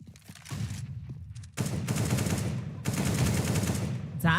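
Counter-Strike match gunfire comes in several sharp bursts of rapid shots, separated by short lulls, with a caster's voice talking over the action.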